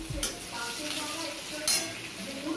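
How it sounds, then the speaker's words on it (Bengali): Two or three cloves of crushed garlic hit hot oil in a pan and sizzle steadily up close, with a couple of sharp utensil clinks against the pan. "তেলটা গরম হয়ে গেছে, এবার আমি 2-3 কোয়া যে রসুনটা আমি থেতো করে রেখেছিলাম ওটাকে"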